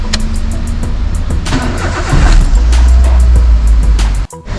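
A Daihatsu Sirion with an engine misfire cranks and starts close by, the loud churn of the starter giving way to a rising engine note that settles into a running idle before a brief dropout near the end.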